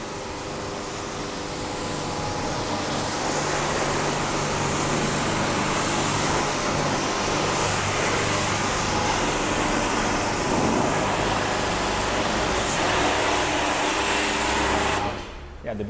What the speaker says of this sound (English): the beauty of pressure washer is to clean the mud flaps